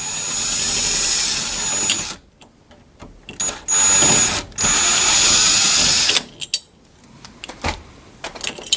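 A power drill whines loudly up close in several bursts of varying length while removing doorknob screws, with short clicks and clattering of metal parts between runs.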